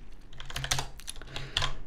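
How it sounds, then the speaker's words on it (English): Fast typing on a computer keyboard while working in Vim or NeoVim in an Ubuntu virtual machine: dense irregular clicks and key taps close to the mic, with a few louder strikes and no talking. "Too much typing."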